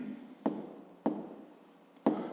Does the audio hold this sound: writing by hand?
yes